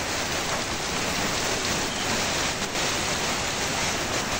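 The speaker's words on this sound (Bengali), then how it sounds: "কি পরিমাণ পানি ঝরছে আকাশ থেকে।" Heavy rain pours down in a dense, steady roar of water hitting surfaces, loud and unbroken throughout with no voices.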